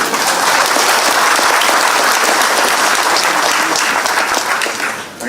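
A large crowd at an Uddhav Thackeray political speech in Maharashtra breaks into loud, sustained applause, a dense wall of clapping that holds steady for several seconds before beginning to fade.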